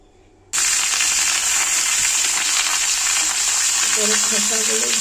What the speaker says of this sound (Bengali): খোসাগুলো দিয়ে লাউয়ের খোসাগুলো দিয়ে ভালো করে নেড়ে ঢাকা দিয়ে দেবো।